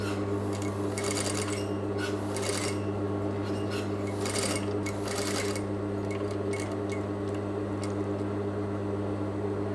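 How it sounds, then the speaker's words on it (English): An industrial sewing machine hums steadily while topstitching a rounded lined pocket, with a constant motor drone and faint rasping fabric noises throughout, no talking. "make sure we're positioning the work so we've got a nice, accurate and smooth, neat top stitch to our pocket"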